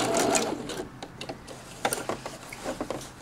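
A sewing machine stitches a seam on a nautical cushion and locks the stitch, giving a short burst of rapid mechanical whirring and ticking, close and moderately loud, with no talking.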